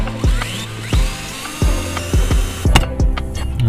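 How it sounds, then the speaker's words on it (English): A power drill bores through metal while mounting a brake pedal on a Carrera T SRP race pedal set, in short repeated bursts with a rising whine and a brief pause between each. "Drilling through metal for the brake pedal."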